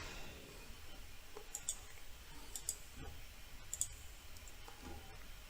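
Several crisp, quiet mouse clicks spaced apart, a sharp little tick each time, set against a faint, near-silent background.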